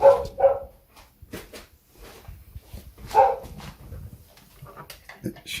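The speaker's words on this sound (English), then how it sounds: "We've got a dog in the background" A dog barks and whimpers in the background of a household setting, giving a few short, fairly loud yelps near the start and another burst around the middle, with quieter rustling between.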